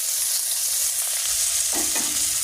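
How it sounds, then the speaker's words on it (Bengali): Cumin seeds and mixed spices fry in hot oil for a Bengali curry, giving a steady close sizzle with a sharper burst of crackling and stirring near the end. "তেল গরম হয়ে গেছে জিরে ফোড়ন দিয়ে দিলাম মশলাগুলো সবগুলোই একসঙ্গে দিয়ে দিলাম"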